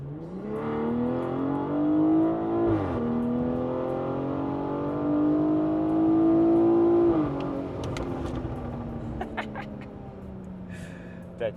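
A tuned BMW 840i with catless downpipe, catback exhaust and gearbox in sport mode revs hard in two long rising pulls, the engine note climbing loudly and close before settling to a lower drone with faint clicks.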